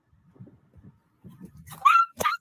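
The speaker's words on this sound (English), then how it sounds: "Is that your dog?" A dog whimpering close by, with soft low grumbling whines that rise into a couple of sharp, high-pitched yelps near the end.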